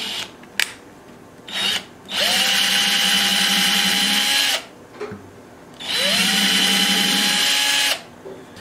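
An electric drill bores an end pin hole in a custom 12-string dreadnought guitar body: two long high whirring runs with rising spin-up, separated by pauses and short clicks, loud and close.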